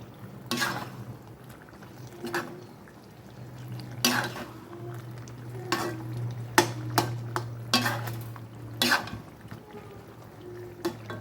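Chili powder is stirred into hot oil for a mango pickle, a spoon scraping and clinking against the pan in irregular strokes over a soft, steady sizzle and a low hum.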